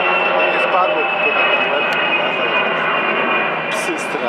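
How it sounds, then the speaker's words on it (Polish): An AWACS radar airplane flies overhead during an outdoor protest at the 2016 NATO summit in Warsaw, its engine roar a steady, loud drone throughout with people talking over it. "Ale to jest taki samolot, słuchaj, z takim radarem."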